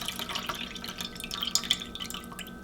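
Buttermilk from homemade butter drains through a strainer into a bowl below, a soft, close patter of drips and trickles with faint glassy plinks, quiet and without any voices.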